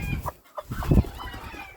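A brooding hen clucks on a farm, with a few close, low, throaty clucks in short bursts and no talking.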